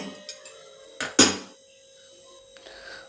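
A metal spoon clinks twice against a dish while stirring protein powder into milk, a sharp scrape followed by a louder clatter, then faint quiet stirring.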